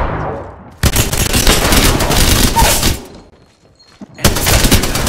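Spitfire light machine gun firing in Apex Legends: loud sustained automatic bursts of rapid shots, one long burst then a pause and another burst starting near the end.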